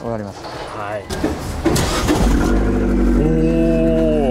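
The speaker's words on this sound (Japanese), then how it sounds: "ぜひこのエンジン音、マフラー音を聞かせていただけないですか。" An Abarth with a factory-fitted aftermarket muffler cranks and fires up, then settles into a loud, buzzy idle through its exhaust. Brief talk comes just before the start.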